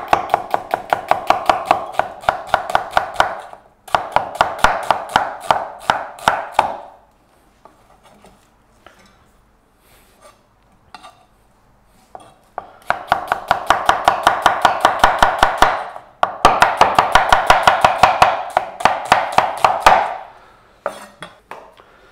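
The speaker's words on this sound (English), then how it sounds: "all the onions are chopped for the gravy" Onions chopped on a board with a knife for gravy, rapid steady knife strokes in two long bursts separated by a quiet pause, close and crisp with no voices.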